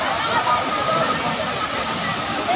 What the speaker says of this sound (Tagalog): And ito yung Majestic Falls dito.